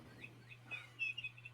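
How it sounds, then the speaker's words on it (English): A cat toy gives off faint, thin bird-like chirps and tweets in a quiet room, with a steady low hum beneath. "Oh, that's a cat toy."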